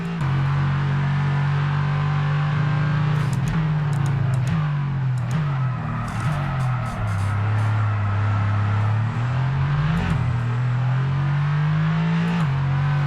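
An F1 22 safety car in the racing video game accelerates hard, its engine droning loud and steady through rising revs, with brief dips and clicks at gear changes across the whole stretch.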